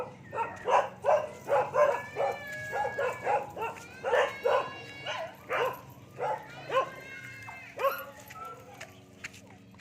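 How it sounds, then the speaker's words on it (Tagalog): Several dogs barking in quick repeated bursts, a steady rhythm of yaps and bow-wows over about ten seconds, close and fairly loud, with a few whimpering tones near the end. "may mga aso dito"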